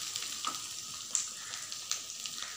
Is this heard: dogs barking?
no